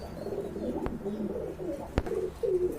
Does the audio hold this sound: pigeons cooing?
yes